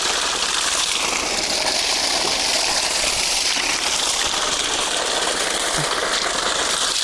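Water gushes steadily from the outlet of a 3 HP solar water pump, a loud continuous hissing rush with no pauses and no talk.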